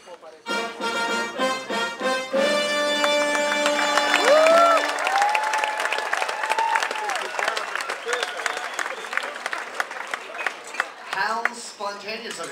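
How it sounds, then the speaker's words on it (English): On a cruise ship, a band plays a brassy fanfare, then audience applause and cheering build underneath and continue into scattered clapping as the music fades. "When the band strikes up the fanfare, typically it gets a nice round of applause."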